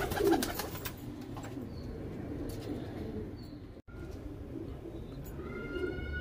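Teddy and Sebay pigeons in Faisalabad coo softly in repeated low, throaty phrases, close by, with a few chirps near the end and some background rustling.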